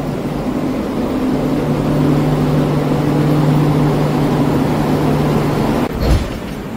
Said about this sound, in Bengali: পদাতিক express train number 12377 up Sealdah পদাতিক এক্সপ্রেস ছাড়বে 11টা বাজে 20 মিনিটে।